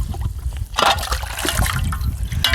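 Running tap water splashes and trickles steadily while guinea fowl meat, already gutted, is rinsed, with brief louder splashes at moments and no voices.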